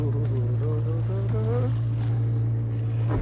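A small tourist boat pulls away from the jetty at Chandil Dam in Jharkhand, its engine giving a steady, loud low drone with wind noise, and a person's voice heard briefly over it.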